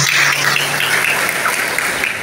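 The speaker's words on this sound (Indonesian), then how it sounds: "Tepuk tangan untuk pemerintahan Karangmonco." An audience at a government launch event in Karangmoncol, Purbalingga applauds the local district government with loud, dense, sustained clapping that fills the room evenly from start to finish.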